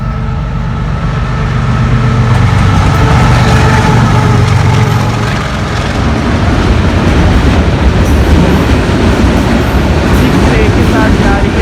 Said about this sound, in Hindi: कंटेनर स्पेशल है ये GU40 के लीड के साथ।